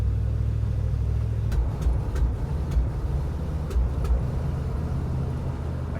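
A 1968 Mercury Cougar engine idling after a cold start, a low steady rumble with a few faint ticks, continuous and close, with no talking.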